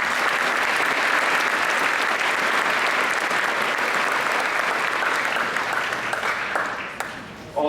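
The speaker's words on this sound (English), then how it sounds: "give him a round of applause." Sustained applause from a crowd at an eighth grade graduation ceremony, steady and fairly loud, tapering off near the end.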